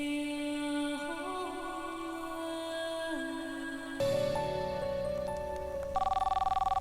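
A mobile phone ringtone plays a repeating electronic melody, loud and close, shifting to a different tune partway through.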